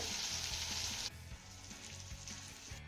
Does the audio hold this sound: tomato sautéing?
yes